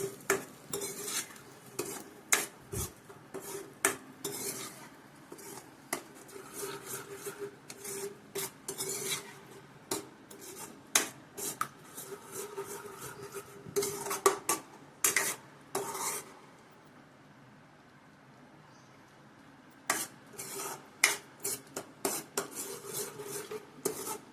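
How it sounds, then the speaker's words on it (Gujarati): A spoon scrapes and stirs kaju gathiya curry (cashews and gathiya) sautéing in oil in a pan over medium heat, with repeated scraping strokes and brief pauses between them. "નાખીશું બરાબર સાંકળીશું"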